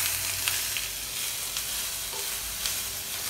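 Nuts frying in a pan as a garnish for chicken kabsa: an even hiss of hot oil with a few faint crackles and soft stirring touches, close and continuous.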